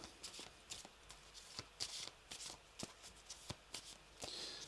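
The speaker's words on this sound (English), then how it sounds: "we get our discard pile and we shuffle it into our deck" A discard pile is shuffled back into the deck in the Veilwraith card game, heard as a quiet series of crisp, evenly spaced card flicks and snaps over a faint background hiss.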